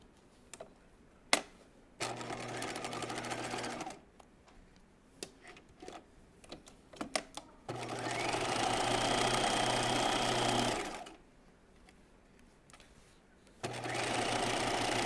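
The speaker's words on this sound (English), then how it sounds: "we're going to sew the underarm seam on the sleeve" A sewing machine stitches the underarm seam of a raglan top sleeve in three steady whirring runs. Short pauses with clicks and fabric handling fall between the runs.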